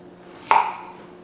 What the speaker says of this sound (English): we're just gonna give our jalapeno a couple of quick dices